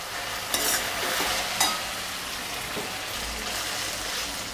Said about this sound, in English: Keep stirring it occasionally so it gets cooked well